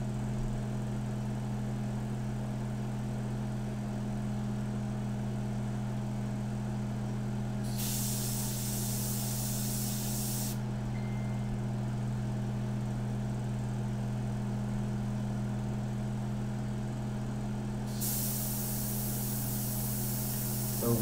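A Slim airbrush sprays India ink in two bursts of steady high hiss, each about three seconds long, set against a constant low electrical hum from the compressor or room.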